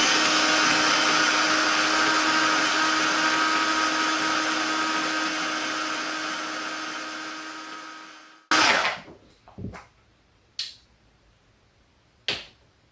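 A cheap TEMU blender runs loudly and steadily for about eight seconds, its motor whine winding down before it stops, followed by a few sharp clicks and knocks of handling the jar.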